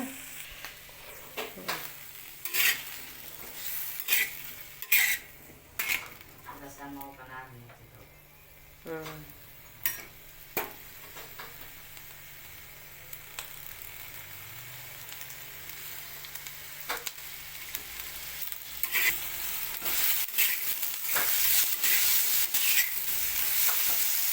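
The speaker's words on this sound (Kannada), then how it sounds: "ಟಮಾಟೆನ ಜಲ್ದಿ ಹುರಿಯೋದು ಹಸಿ ಕಟ್ಟಿದ್ದಂಗೆ ಇರ್ತಾವೆ." Tomatoes frying in a pan for a village-style chutney, with a soft sizzle and repeated sharp scrapes and clinks of stirring, and someone talking over it.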